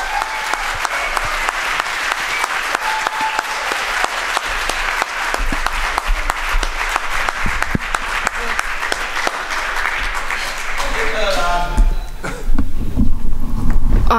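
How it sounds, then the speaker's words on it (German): A poetry slam audience gives loud, sustained clapping to welcome a performer onto the stage, with dense crowd applause running throughout. Voices and some whooping rise near the end. "bitte klatscht sie sehr, sehr warm auf diese Bühne"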